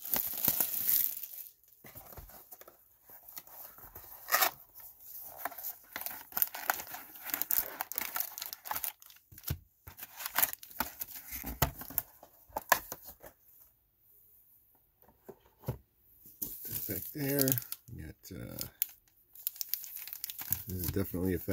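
Foil packs of 2019 Rookies & Stars football trading cards being stripped and torn open: bursts of close crinkling and ripping wrapper with pauses between handfuls, with a person talking intermittently over the sounds.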